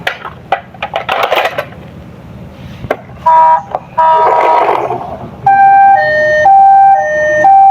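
Toy police car siren, a model car, wailing in short steady electronic tones that start and stop, preceded by scattered clicks and handling noises, fairly loud and close with no talking.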